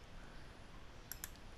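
A computer mouse gives two quick, sharp clicks close together near the end of a quiet stretch with faint room hiss, as videos are selected on screen.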